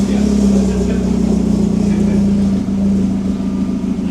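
A Vauxhall VXR fitted with a new 3-inch turbo-back exhaust idles steadily after its first startup, a loud, continuous low rumble holding even throughout with a slight dip near the end.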